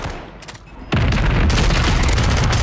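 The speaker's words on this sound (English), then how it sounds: "Oh, we got hit by the airstrike." Airstrike in Call of Duty Warzone on Rebirth Island, a sudden loud booming explosion that hits close, followed by a dense, sustained rumbling roar of blasts and debris.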